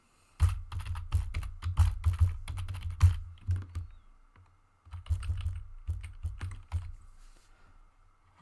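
Computer keyboard typing up close, fast bursts of crisp key clacks in two runs separated by a short pause, loud and alone, while entering a web address into a PowerPoint text box.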